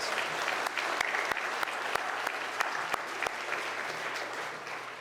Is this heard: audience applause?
yes